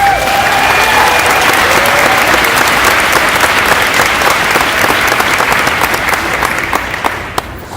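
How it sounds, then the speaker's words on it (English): A large crowd at a business event breaks into loud, sustained applause. The clapping stays dense and even for several seconds, then tapers off toward the end. "So let's give them a round of applause."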